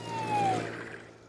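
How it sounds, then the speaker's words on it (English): An ambulance siren wails briefly, its falling tone sweeping downward and fading against a low engine hum, ending in a sudden loud burst. "Oh, look, an ambulance."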